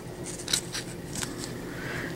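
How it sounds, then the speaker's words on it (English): Scissors snip and slide under a Jamberry nail wrap sheet, giving soft crisp cutting and rustling sounds up close over steady low background noise. "slide my scissors under the wrap"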